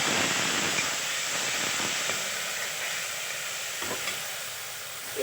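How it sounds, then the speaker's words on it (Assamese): Hot water hits a frying pan holding salt and bay leaves, producing a strong continuous hiss and sizzle of steam that fades slightly over a few seconds, with faint stirring clicks. "এতিয়া মই দি দিম অকণমান গৰম পানী"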